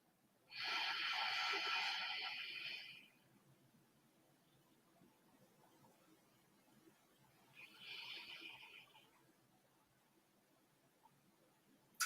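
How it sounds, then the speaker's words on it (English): Two slow, breathy exhalations during a yoga pose with lips sealed, a long one near the start and a shorter, softer one several seconds later, separated by quiet room tone. "Just take a breath or two here."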